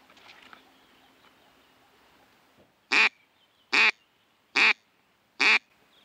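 A duck quacks on a flooded spring bay during a drake hunt, four loud, evenly spaced calls close by after a quiet stretch of faint outdoor background, with no talking.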